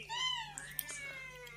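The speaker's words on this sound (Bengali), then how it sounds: "পাশে যে বিড়ালটা বসে আছে" A cat gives a short, close meow with rising and falling pitch, followed by a softer second call over faint background hum.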